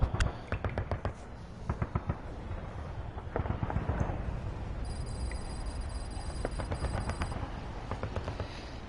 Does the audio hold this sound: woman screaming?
no